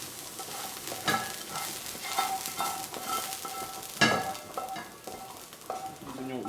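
Onions sautéing in a pan beside cooking potatoes, giving a soft continuous sizzle broken by close scraping stirs with a utensil, with a sharper scrape about two-thirds through.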